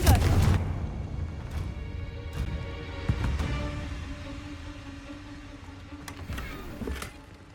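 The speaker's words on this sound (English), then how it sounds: "Confringo." A Confringo fire-blast spell goes off in Hogwarts Legacy with a loud booming burst at the start, then a ringing, decaying tail and a few softer whooshing hits and crackles over the following seconds, with no one talking.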